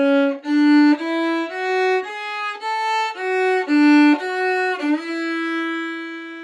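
A violin plays a melody line at a moderate pace, with clear bowed notes stepping up and down and a slide at the end, solo with no accompaniment.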